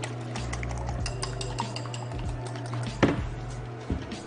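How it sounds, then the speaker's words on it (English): Metal whisk clinking and scraping against a bowl while preparing fish, a run of light irregular taps and stirring clatter close by with a low hum underneath, with no talking. "I have a whisk. I've never used this."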